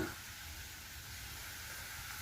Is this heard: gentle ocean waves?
no